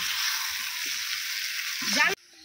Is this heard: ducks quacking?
no